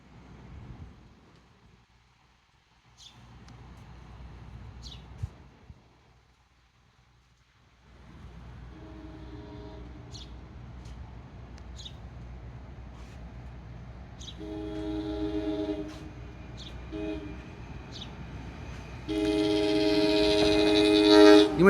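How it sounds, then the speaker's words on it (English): A commuter train, an electric multiple unit on the Hoboken to Gladstone line, pulls into Millington station in New Jersey, a low rumble building from faint to loud, with squealing wheels and a horn-like tone rising near the end. "We're at Millington, seeing train number 429 from Hoboken to Gladstone."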